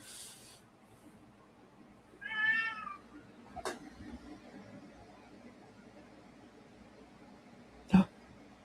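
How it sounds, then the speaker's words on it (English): A hungry kitten gives one clear, fairly close meow before feeding time, followed by a couple of sharp knocks in an otherwise quiet room. "The trials and tribulations of being a kitten before feeding time."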